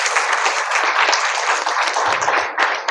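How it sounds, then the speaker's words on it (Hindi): Applause from a crowd at a live religious gathering, steady and fairly loud throughout with no pauses, alone without talk. "ताली बड़े धीरे बज रही है छत्तीसगढ़ी में"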